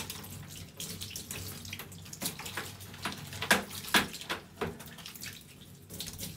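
Running water from a bath tap rinses a cat in a bathtub, a continuous close splashing stream broken by irregular louder splashes and drips.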